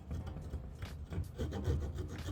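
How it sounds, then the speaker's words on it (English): Pull saw or large handsaw starting a cut in wood for a cigar box bass guitar neck, giving soft, close rasping strokes in an uneven rhythm, quiet and with no talk. "your pull saw, or sometimes I even use my big handsaw. And you just kind of want to get this started."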